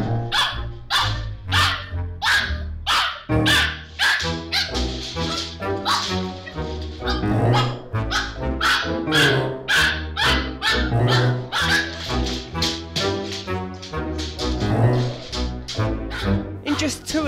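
A corgi puppy barks repeatedly and close by, with sharp yips and whimpering barks in an uneven, insistent rhythm, loud throughout.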